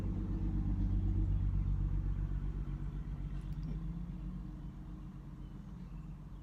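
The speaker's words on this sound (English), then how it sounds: "Oh, there's a car coming." A car passes outdoors on a spring afternoon in Houston, Texas: a low rumbling engine drone that swells early, then slowly fades as it moves away.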